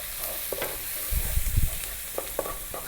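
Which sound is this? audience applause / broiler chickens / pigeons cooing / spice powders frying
spice powders frying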